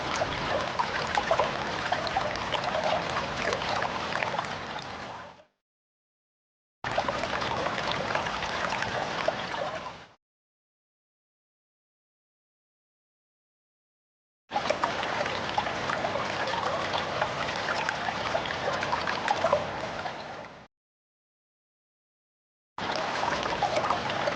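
Water trickles steadily out of the drain of a two-door Panasonic refrigerator that is not cooling well, running in bursts of several seconds separated by silent gaps.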